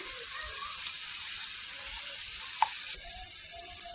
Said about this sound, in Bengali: তেলে ডুবা তলে যখন ভাজা হবে এরকম বুদবুদ ছাড়বে